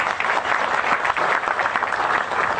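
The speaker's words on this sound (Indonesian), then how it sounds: "Tepuk tangan untuk dia." Steady audience applause from a comedy talk-show crowd, a dense, even wash of many hands clapping close and loud throughout, with no talk over it.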